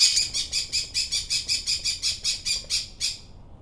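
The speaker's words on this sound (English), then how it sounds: "his bird got excited there" A pet bird gives about a dozen sharp, shrill squawks in a fast, even rhythm, loud and close, with a short pause before the last call.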